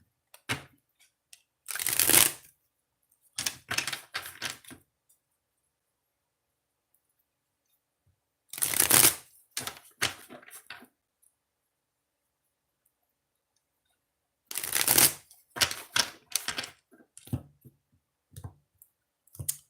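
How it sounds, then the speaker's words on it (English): Oracle cards are shuffled in three separate bursts of crisp riffling and slapping, with silent pauses between them. "3 shuffles."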